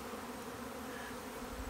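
A few bees buzz around a backyard feeder and water spot with wood floats, a faint, steady, close-by hum with no voices.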